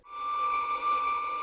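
A violin sounds a single sustained natural harmonic D, a pure, steady, glassy tone held alone for about a second and a half.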